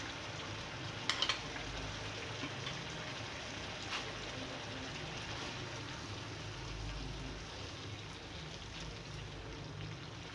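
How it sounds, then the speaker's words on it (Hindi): Chicken korma with yogurt frying in a pan makes a steady, soft, fairly quiet sizzle that carries on throughout, with a few faint clicks near the start. "अब इसमें मैं बाकी का बचा हुआ तमाम दही जो था वो भी मैं इसमें मिक्स कर दूँगी, और इसे फिर दोबारा मज़ीद इसको भूनूँगी"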